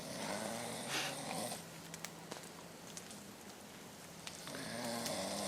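Slow, raspy snoring breaths from a person sleeping at a backpacking survival camp in Maine rise and fall against a steady background hiss, fairly faint and with no talking.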